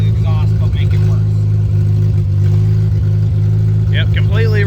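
A 1956 Willys Jeep CJ5 with a rebuilt body and a worsened exhaust idles loud and close. Its deep, steady engine drone holds throughout, with a few brief higher squeaks riding over it.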